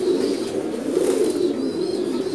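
Pigeons in a breeding loft give a steady, close cooing drone that runs through the whole moment, with faint chirps and rustling above it and no talking.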